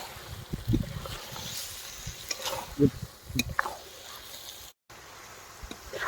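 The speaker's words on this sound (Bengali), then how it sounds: "এখন আমরা ভালো করে ভুটির সঙ্গে চর্বিগুলো কষিয়ে নেব" Goat tripe and fat are sautéed in a pan, with a soft intermittent sizzle and scraping stirs close up, a brief silent gap midway and no voices.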